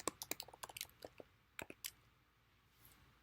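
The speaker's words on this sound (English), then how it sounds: "I'm just going to start typing a property address." Someone types a property address on a computer keyboard in quick, crisp clusters of keystrokes, close and clear, that trail off into quieter taps near the end.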